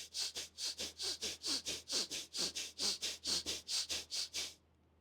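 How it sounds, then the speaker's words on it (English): Rapid, forceful nasal breathing for a breathing exercise: about twenty quick, evenly spaced sniffing breaths in a steady rhythm, close and clear, then stopping abruptly into quiet. "you need to just lift your head up slightly, inhale and exhale fastly like this"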